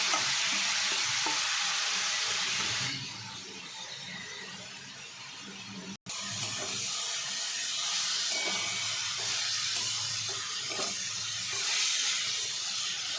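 Grated carrot and beetroot hitting hot oil with five-spice seeds for a vegetable chop filling, a loud close sizzle that dips briefly, then steady frying hiss with stirring scrapes and no talk.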